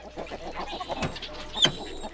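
Chickens clucking softly in a coop, a few short scattered clucks and one sharper call, faint and fairly close.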